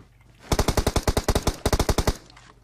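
Close, loud automatic gunfire in PUBG Mobile on Sanhok, about twenty rapid shots in two bursts with a tiny gap between them, then a short echoing tail.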